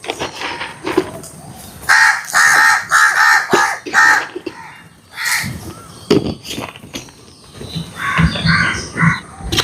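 Several crows caw loudly and repeatedly at close range while being fed scraps, their harsh calls coming in bursts and overlapping, with a few quieter gaps and some faint background noise between outbursts.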